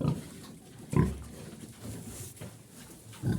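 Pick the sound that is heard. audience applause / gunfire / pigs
pigs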